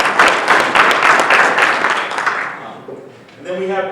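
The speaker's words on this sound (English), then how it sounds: "Let's give David a round of applause." Audience applause at a hazardous weather communication workshop, a dense, loud burst of many hands clapping that tapers off and fades out over the last second.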